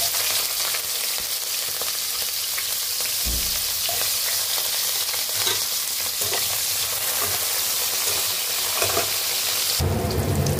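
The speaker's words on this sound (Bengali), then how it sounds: "এই তেলেই আমি উচ্ছেটা ভেজে নেব" Bitter gourd frying in a pan of hot oil left over from frying lentil dumplings: a loud, continuous, close-up sizzle and crackle, with a few stirring bumps and a sharp rise in hiss near the end.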